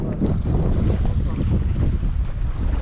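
Strong wind buffets a fishing boat out on the Mediterranean, a constant rough roar of gusts with water and hull noise underneath, loud and close throughout.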